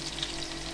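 Meat patties (fricadelle) and oyster mushrooms fry in a pan, a steady, close sizzle with crackling and no talk over it, lasting under a second.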